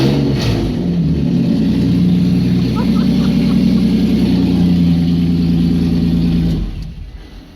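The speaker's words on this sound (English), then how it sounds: "I was waiting for you to give it a bit of a rev." Supercharged Toyota Hilux engine revving close by, a loud sustained rough roar with a V6-like tone that holds steady for several seconds, then cuts out abruptly near the end.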